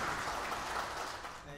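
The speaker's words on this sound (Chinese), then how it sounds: "我们就用最热烈的掌声我们来欢迎我们音乐班联谊会的会长黄教成会长" Applause from the audience at a school music recital, welcoming the music class alumni association president; faint, steady clapping at some distance fills the whole moment without a break.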